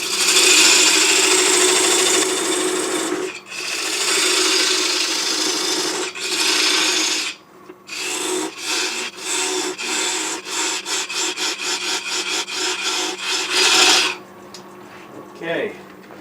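A 1/4 inch parting tool cuts into wood spinning on a lathe, giving a loud, continuous rasping hiss that breaks into a rapid series of short scraping pulses toward the end.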